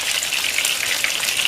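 Chicken pieces frying in hot oil, with a dense steady sizzle and scattered crackling pops of spluttering oil. The sound is close and continuous, and no one speaks.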